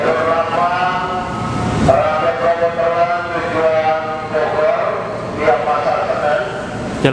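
An electric commuter train rumbles steadily through Jatinegara station, with a sustained tonal hum and whine over the constant roar, close and loud throughout.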